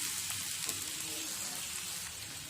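Sliced onions sauté in a pan for squid pepper fry, a steady close hiss of sizzling oil with faint stirring, continuous and fairly loud throughout.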